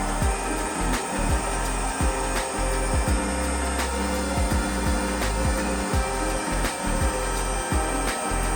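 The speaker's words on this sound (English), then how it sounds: "Once dry, we get the table on the CNC for a 5-hour engraving session." A CNC machine engraves a heavy black gum and blue resin table, giving a continuous mechanical whir broken by repeated low thumps and clicks in an uneven rhythm, close and fairly loud with no voices.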